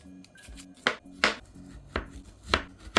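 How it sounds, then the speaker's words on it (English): Knife chopping through small peeled taro on a cutting board for a Filipino coconut dessert, about five sharp, distinct thuds spaced roughly half a second apart, close and clear, with a faint low hum between strikes. "We're going to be peeling it and dicing it up."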